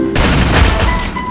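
Gunshots in a mobile battle-royale shooter during a headshot, heard as a loud, dense burst of rapid cracking fire filling the whole brief moment.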